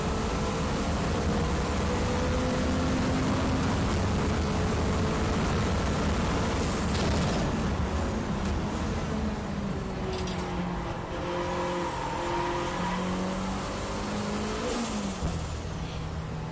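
A turbocharged K20-powered Nissan Micra race car lapping Donington Park, heard from inside: a loud, constant engine drone rising and falling through gear changes, with a turbo whine and wind roar throughout.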